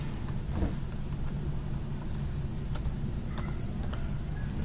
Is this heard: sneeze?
no